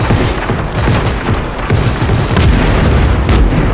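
Explosions in Just Cause 3 roar loudly and continuously, a dense rumbling blast with crackling debris and booming pulses, close and overwhelming throughout.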